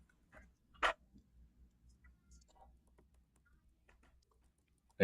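Sparse, faint clicks of keys tapped on a computer keyboard while a prompt is typed in, spread out over a low steady hum.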